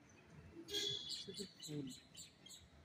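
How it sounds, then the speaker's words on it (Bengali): Several high, quick bird chirps and tweets nearby in the morning in Bangalore, in short bursts over a soft background, with a brief spoken remark mixed in. "পাখি আওয়াজ হচ্ছে, ডাকছে।"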